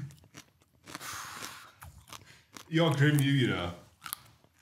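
Crunchy food is bitten and chewed close to the mic, with loud crackling crunches and a few sharp pops, and a person speaks briefly over it.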